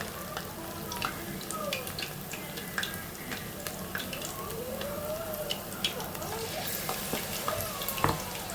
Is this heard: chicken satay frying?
yes